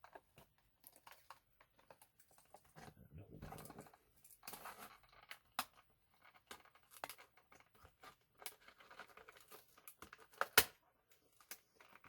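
A Star Wars Vintage Collection Darth Revan action figure's plastic blister pack being opened around its edges: a scattered series of soft crinkles, snaps and sharp crackles, quiet and close, with gaps between bursts and one louder crack near the end.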